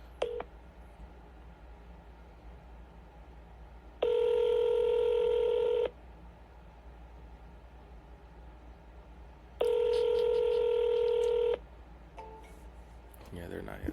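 Telephone keypad dialing tones during a cold-calling session: two steady multi-tone bursts of about two seconds each, separated by a quiet line hiss, heard clearly and close with no talking.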